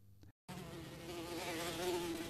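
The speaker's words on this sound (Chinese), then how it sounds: "贾道长的洞室里还生活着一群蜜蜂，他们随意在道长周围飞舞" Bees flying around a Taoist hermit's cave dwelling at Taizi Cave, a steady close insect buzz that drones on after a brief silent gap, with no voices.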